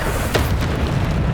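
A Bombarda spell blast in Hogwarts Legacy lands as a short, dense boom with a brief crackling burst, close and loud amid combat noise.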